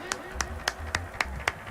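Hands clap six times at a steady, unhurried rhythm, sharp and close, from a Paraguayan league football commentator applauding a goal, with faint low broadcast background beneath.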